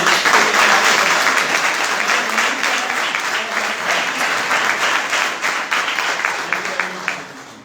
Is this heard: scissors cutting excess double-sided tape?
no